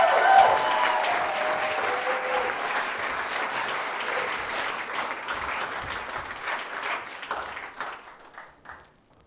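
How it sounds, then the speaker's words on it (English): Studio audience of a talk show applauding and cheering as guests come on, loud dense clapping that gradually thins and fades out near the end. "Please, big round of applause for Katie Graham and Andrew Matthews."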